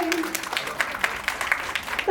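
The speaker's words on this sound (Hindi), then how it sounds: "इतना प्यारा डांस किया, इतना प्यारा परफॉर्मेंस, जोरदार तालियां हो जाए" Brief rhythmic clapping from an audience greets a dance performance at a Mangal Geet celebration, heard fairly quietly at a distance with voices mixed in.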